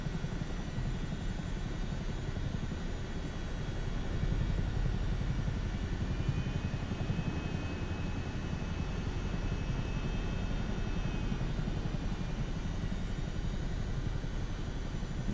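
A Chinook helicopter in Microsoft Flight Simulator 2024 gives off a continuous rotor and turbine drone, steady and fairly loud for the whole stretch with a thin high whine running over it.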